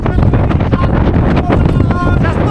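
Storm wind blowing on the Padma river bank, a loud constant roar and buffeting across the microphone throughout, with a voice faintly audible beneath it.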